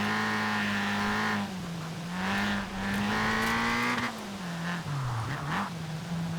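A Toyota AE86 in the racing game Forza Horizon 4 drives with a steady, buzzing engine note that rises and dips as it revs through gear changes, with brief tyre squeal and no talking.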